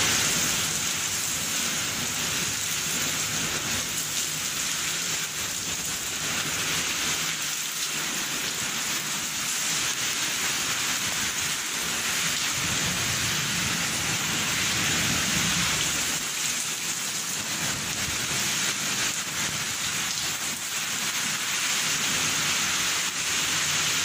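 Heavy rain driven by strong winds in Riacho dos Cavalos pours down in a loud, unbroken roar that holds steady throughout, with no voices heard.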